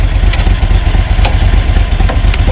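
Lanchin 30 hp engine idling after a start in cold weather, a loud, close, steady rapid chugging with a faint metallic clatter and no voices.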